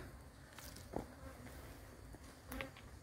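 Honeybees buzz at an apiary beside hives used for breeding and feeding, a steady, soft, continuous drone with a few louder passes of individual bees close by, and no voices.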